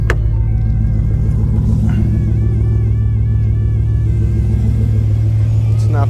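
A 2011-or-later S197 Ford Mustang 5.0 fitted with an Airaid cold air intake rumbles steadily and loudly while driving, its deep engine drone constant throughout.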